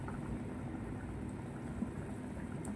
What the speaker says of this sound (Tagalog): Kumukulo na siya.